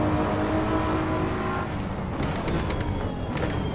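A BMW M4 GT3 Evo race car at full throttle in the Assetto Corsa EVO game at Laguna Seca, a loud continuous engine roar with a short shift-like break midway before climbing again.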